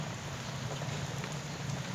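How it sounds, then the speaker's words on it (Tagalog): Steady heavy rain pours down without pause, a dense continuous hiss with a low rumble beneath, heard on a travel route during a night-long downpour. "kasi walang tigil ang ulan"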